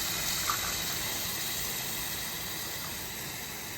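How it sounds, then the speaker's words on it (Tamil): A short, steady rush of water pouring into a pot while cooking pea rice, a soft continuous gush and hiss heard up close. "இதில் தண்ணி சேர்த்துடலாம்"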